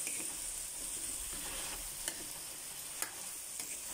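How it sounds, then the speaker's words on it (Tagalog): Vegetables cook in a pan for chicken curry, giving a steady soft sizzle with an occasional scrape and clink as they are stirred. The sizzling stays fairly faint and there is no talking. "Haluin nyo guys kasi para magpantay yung pagkaluto ng mga gulay"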